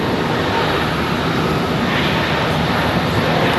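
An airliner rolls across a taxiway at Charlotte Douglas airport around sunset, its engines giving a continuous, even roar of broadband noise that stays loud and unchanging.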